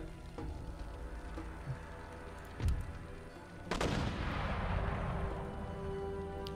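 Artillery fire from the Empire Total War game: a few sharp booming shots ring out over a low battlefield rumble, with one heavy blast near the middle followed by a long rolling echo.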